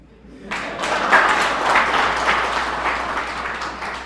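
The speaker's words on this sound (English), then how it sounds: "That's why you see the honorable members are clapping" Members of Soroti District's council in Uganda break into a burst of applause that starts abruptly and holds steady for several seconds, a room full of hands clapping at close range.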